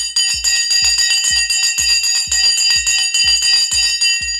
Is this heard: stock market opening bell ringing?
yes